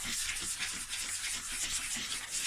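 Sanding a Nissan Almera N16 plastic wheel trim by hand, removing the top layer; a steady, close abrasive rubbing hiss with soft repeated strokes, continuous throughout with no talking.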